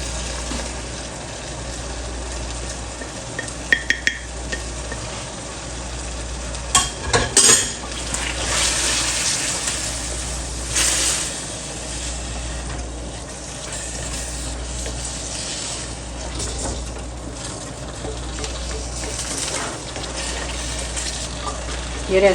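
Ground coriander, crushed fennel and Kashmiri red chili stirred into a hot frying pan for chicken macaroni, a continuous sizzle with scraping spoon strokes and occasional metallic clinks, close and steady throughout.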